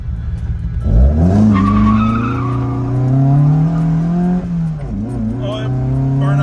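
A 1979 Fiat 124 Spider 2000 with dual 44 IDF carburetors revs hard and skids sideways in a burnout, the loud, close engine roar rising in pitch with tire squeal before briefly dipping and climbing again.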